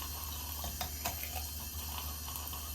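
Running tap water splashes steadily into a sink while a makeup brush is swished through the stream, giving a continuous close hiss with small irregular splashes.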